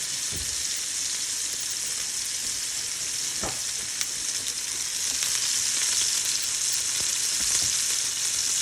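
Steak searing in a saute pan, a loud, steady sizzle that carries on throughout, with a few faint knocks and clinks close by and no talking.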